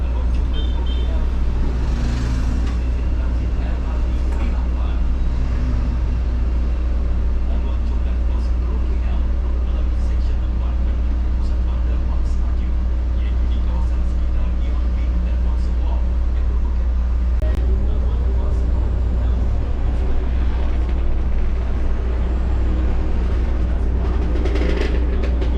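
Low rumbling of buses and street traffic in Kuala Lumpur, heard from inside a moving bus with a steady engine drone, passing vehicles and occasional voices.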